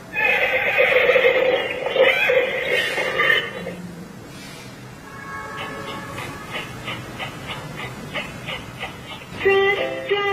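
A bright recorded horse whinny from a Global Drone YS2604A toy phone plays loudly at first, followed by a tinny electronic jingle of short chiming notes.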